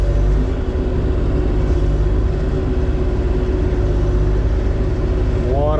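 Bobcat track loader driving on its tracks while handling logs, a steady loud diesel engine drone with a low rumble throughout and a slight rise in pitch at the end.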